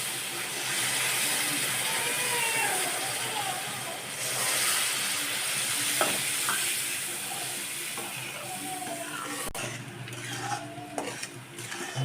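Saffron-infused full-fat cream milk hits roasting semolina in a pan for mango barfi, a continuous close sizzle with metal spoon scraping and stirring over about twelve seconds, with some faint talk.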